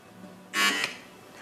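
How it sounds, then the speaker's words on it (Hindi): A quiz show buzzer on a Ramadan iftar broadcast sounds once, a bright harsh electronic tone lasting about a third of a second, clear over a quiet studio. "इसलिए बहुत सोच समझ कर आपने बज़र बजाना है"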